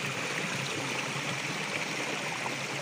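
Water from a natural spring stream in rural Konkan, clean though murky-looking, flowing in a steady, even broadband rush that stays constant throughout with no voices.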